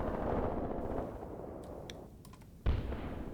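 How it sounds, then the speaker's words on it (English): Mortar shells firing in the WWII tactics game Graviteam Tactics: a rumbling roar that fades, a few faint clicks, then a sudden loud thump with a rolling low boom, and no speech. "Okay, mortars are still zeroing in."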